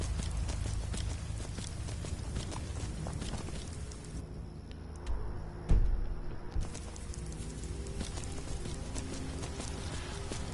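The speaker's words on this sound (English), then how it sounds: "You can even see NPCs using horse mounts" Horse hooves clip-clopping in the video game Skyrim Special Edition, modded, as NPCs ride horse mounts; a steady, moderately loud stream of hoof steps with a brief louder thump midway and no talking.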